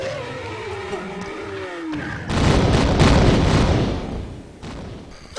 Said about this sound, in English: so that I don't get hit by the explosions